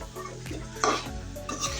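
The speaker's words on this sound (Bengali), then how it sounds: "তো এই আমি চিকেনটা ভালো করে কষিয়ে নিচ্ছি।" Chicken with chopped green chillies sizzling and being stirred in a pan, close soft scraping strokes over a steady fry, with no talk.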